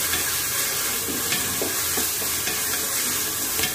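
Onions fry in a pan for Hyderabadi biryani, giving a steady close sizzle with scattered stirring scrapes and small crackles throughout; no voices.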